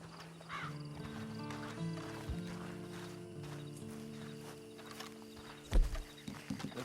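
A horse in the video game Red Dead Redemption 2 walks with soft, faint clip-clop hoofbeats over a low sustained musical drone, with a louder thump and snort near the end.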